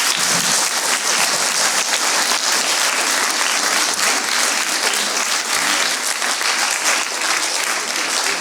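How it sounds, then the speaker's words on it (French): Dense, loud audience applause after a mock trial performance by students, continuous crowd clapping with no breaks and no talking. "Merci beaucoup, vous pouvez les applaudir."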